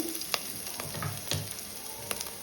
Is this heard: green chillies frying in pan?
yes